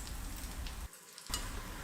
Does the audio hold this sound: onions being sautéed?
yes